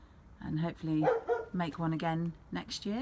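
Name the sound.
pet dog Teddy barking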